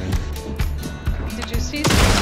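Gunfire in Hunt: Showdown, a handful of separate sharp shots spaced irregularly, then a louder blast at the end, close range, with voices talking over the shooting.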